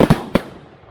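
An Iskra 'Napad' firework launcher fires three sharp, loud bangs in quick succession, each followed by a fading outdoor echo.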